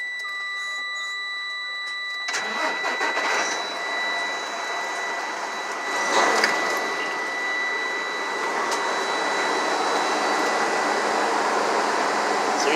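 A truck engine revs steadily to build air brake pressure, a broad loud roar rising at about two seconds and holding, with steady tonal whines running over it and no talk.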